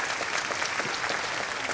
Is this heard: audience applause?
yes